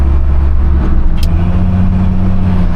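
The engine of a 1981 squarebody truck fitted with an aluminum radiator drones loudly and steadily while driving, its low hum shifting pitch slightly as it revs, with no voices.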